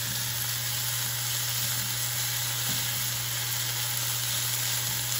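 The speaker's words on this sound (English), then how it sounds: "Give this another stir" Bacon, eggs and vegetables sizzle steadily in a frying pan as they are stirred, a continuous close hiss with faint scraping and no talking.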